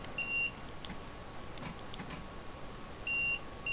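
Short electronic beeps from a livestream setup, triggered when the seat is left empty, repeat faintly at the start and again near the end over a quiet room background.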